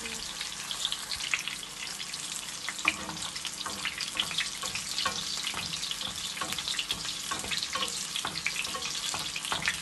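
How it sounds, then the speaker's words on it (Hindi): Chapli kebabs fry in oil over a medium flame, a dense, steady crackling sizzle with scattered sharper pops and a few clinks, close and continuous with no talking. "कबाब इसमें मैंने डाल दिए और इनको मीडियम फ्लेम पे हम इसको बना लेंगे।"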